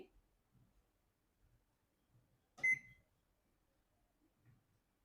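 A convection oven's timer is set for a 1 kg truffle cake at 180 degrees, giving one clear electronic beep amid quiet kitchen handling noises and faint soft clicks.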